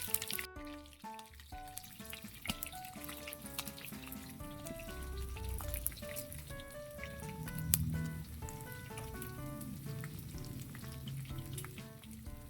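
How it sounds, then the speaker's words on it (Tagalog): Chicken pieces frying in oil in a pan, a steady close crackling sizzle running throughout with small bubbling pops, cooked alongside a mung bean stew. "Ating pinipirito."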